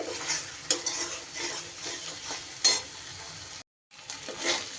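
Coconut spice paste frying in oil while a spoon stirs and scrapes the pan, soft steady sizzle with clinks of metal on cookware and a brief silent gap near the end.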